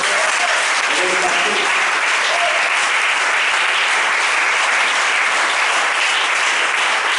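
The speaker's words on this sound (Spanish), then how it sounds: "Den un aplauso a Jesús" A church congregation claps for Jesus during a sermon, a steady, loud wash of many hands that holds evenly throughout, with faint voices mixed in.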